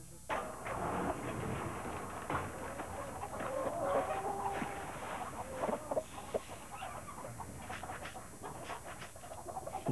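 Chickens clucking in a farm setting in a Quebec radio ad, several birds with irregular overlapping clucks and calls, steady and moderately close, with no speech.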